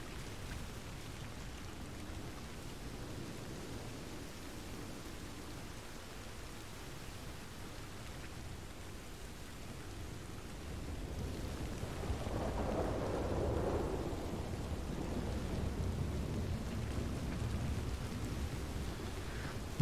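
Heavy rain pours in Red Dead Redemption 2, a soft steady hiss of rainfall with a low rolling rumble of thunder swelling partway through, heard alone without voices.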